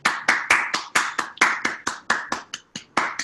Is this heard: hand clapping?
yes